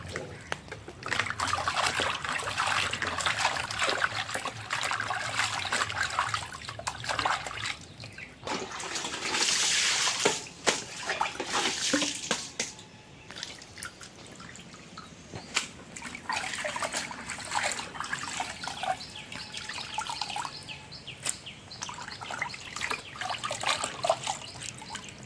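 Water is poured over raw chicken skin while it is rinsed in a kitchen, a steady splashing trickle with sloshing bursts that runs nearly continuously, close and fairly loud.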